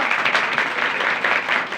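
A congregation applauding during a Sunday church service: dense, continuous clapping from many hands, loud and close throughout.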